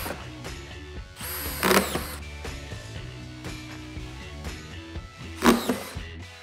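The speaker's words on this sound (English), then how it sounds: "check out the new 20-volt XR brushless screw gun from DEWALT" A DEWALT 20V Max XR brushless drywall screw gun spins up in two short, loud bursts, one early and one near the end, over a background of quieter mechanical clatter.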